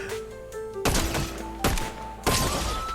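Gunshots in Fortnite fired at a character skin's hitbox: three loud, sharp shots spaced about a second apart over a steady game background hum, with no talking.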